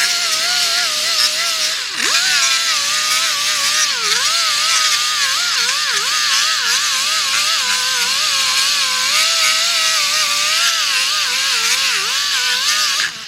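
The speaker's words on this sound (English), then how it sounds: "I'm just removing the carbon." Carbon being scraped off the gasket surface of a 2006 Kia Sportage 2.7 engine during a rebuild, with a steady, continuous whirring grind, loud and close, wavering slightly in pitch as the tool moves without pressing down.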